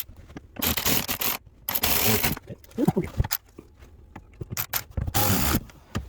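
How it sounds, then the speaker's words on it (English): Screws are driven back in while refitting a Ford Fusion blower motor, with repeated bursts of a power driver whirring and ratcheting up close, separated by short pauses and small mechanical clicks. "Put our last two screws in."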